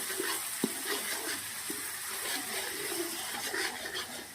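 Grated onion, chillies, ginger and garlic sauté in a pan, a soft steady sizzle with occasional stirring clicks and scrapes, close and fairly quiet.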